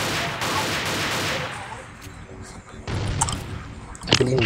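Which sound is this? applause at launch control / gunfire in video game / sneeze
gunfire in video game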